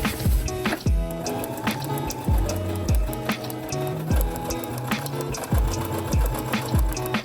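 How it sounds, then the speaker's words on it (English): A sewing machine top stitching along the side of a dress lining, running in repeated rhythmic bursts with clicking and thumping between runs, close and clear with no talk. "I'm going to go and top stitch on the side of my lining from the right side"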